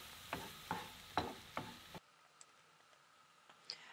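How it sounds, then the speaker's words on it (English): Ravioli being stirred in a pan: a few scraping, clicking strokes over a soft sizzle, faint and close, followed by quieter ticks and a small clink. "now you're gonna stir that in there and let that cook for about 1 or 2 minutes"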